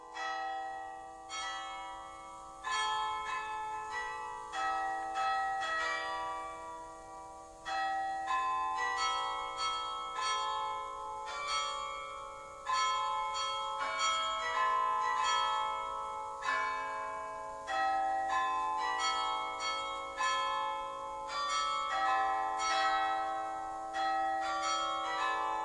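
The carillon of the Douai belfry rings out in a long, steady run of overlapping bell strikes, tunes tumbling in quick phrases with ringing sustain, loud and continuous with no voices.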